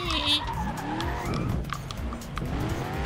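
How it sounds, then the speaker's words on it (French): Car engine revving hard with tires squealing and skidding in the Flatout 2 racing game, aggressive accelerating and braking producing rising and falling engine whines throughout, loud and continuous. "Je fais un jeu d'accélération, de freinage, de fou."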